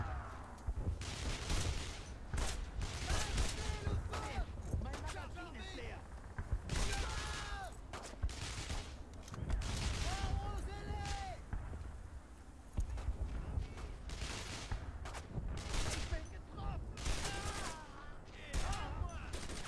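Heavy gunfire from the Brothers in Arms: Road to Hill 30 war game on PS2, dense bursts and single shots firing continuously at a loud level, with shouted squad commands in French over the shooting.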